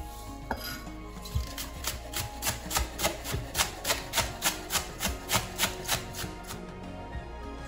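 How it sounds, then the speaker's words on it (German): A knife finely chops garlic on a board in a home kitchen, close rapid regular taps in a steady rhythm of about three per second that slow and stop near the end. "Knoblauch wird fein gehackt"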